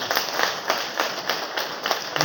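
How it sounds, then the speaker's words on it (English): Audience applause at a soft skills development program for young people, a steady close patter of many hands clapping at moderate loudness, with no one talking. "Can you give a big round of applause to each one of you?"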